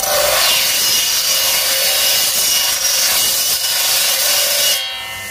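A power saw cuts through coconut shell at a kitchen-utensil craft workshop, making a loud, continuous rasping whine up close that runs steadily before dropping off near the end.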